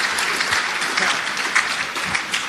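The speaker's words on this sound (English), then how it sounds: "lukewarm applause for the main man, Sam Graham" Crowd at an Australian football league awards night applauding the chief executive, a full, continuous roll of clapping from a room of people, fairly close and even throughout.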